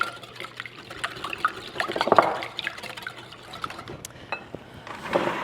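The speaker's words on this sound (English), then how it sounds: "couple eggs, cream, whole milk, pinch of salt, a little bit of vanilla, a little bit of cinnamon, give that a healthy stir" Eggs, cream, whole milk, salt, vanilla and cinnamon being stirred into a French toast custard in a bowl, giving soft liquid sloshing and clinking at close range, with a few louder spoon knocks in the middle and no talk.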